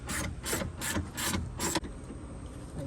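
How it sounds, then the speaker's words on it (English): A hand ratchet clicks in five quick, evenly spaced bursts while loosening window regulator bolts inside the door of a 2001 2500HD truck, followed by quieter handling noise. "Go ahead and loosen the window bolts."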